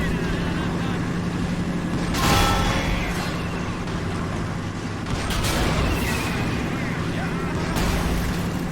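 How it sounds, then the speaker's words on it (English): Artillery shells bombard a hill in the WWII game Men of War: Assault Squad, with a few heavy booming impacts spaced seconds apart over a steady rumbling battlefield din while someone talks throughout. "Alright, let's start bombarding the hill."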